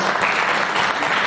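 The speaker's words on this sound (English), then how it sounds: "Clap for the Lord." Congregation clapping during a church service, a brief dense wash of applause from many hands, loud and continuous.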